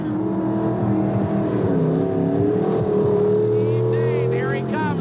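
Monster truck engines roar at a 1988 stadium race in Atlanta's Fulton County Stadium, a loud sustained rumble with rising revs, heard under an announcer's continuous commentary.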